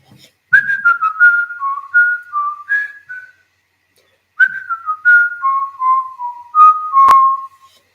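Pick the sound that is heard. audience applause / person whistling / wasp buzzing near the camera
person whistling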